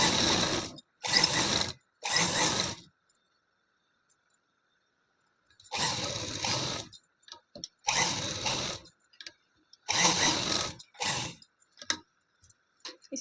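A sewing machine stitching a blouse runs in short motorized bursts of about a second each, separated by pauses and a long quiet gap, near and clear with no voices.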